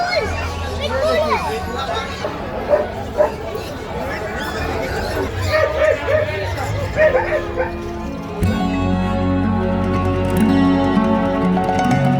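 Dogs bark and yip amid crowd chatter at the Sonpur cattle fair, with the barks mixed into a busy, continuous din of voices and background noise.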